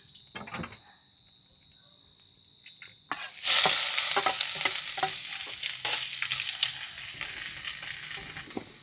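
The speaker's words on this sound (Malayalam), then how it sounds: "കടുകിട്ടു കറിവേപ്പില ഇട്ടു നമുക്ക് സവോള ഇട്ട് കൊടുക്കാം" Onions dropped into hot oil already crackling with mustard seeds and curry leaves, a faint quiet stretch giving way to a loud, sustained sizzle with scattered pops and stirring clatter.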